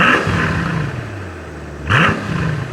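A Mercedes SL 65 AMG V12 roadster heard from behind, its engine holding a steady idle-like drone before a sharp rev swells near the end and settles back, close and fairly loud with no talking.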